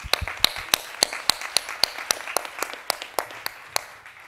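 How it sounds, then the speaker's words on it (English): Conference attendees at a closing plenary clap for themselves, the claps sharp and distinct in a fairly regular rhythm, close and moderately loud with no talking over them. "I'd like everyone to clap yourself"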